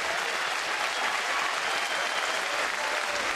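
Dense, steady applause from a big baseball stadium crowd at a Colorado at Toronto game, a sustained wash of clapping and cheering with no break.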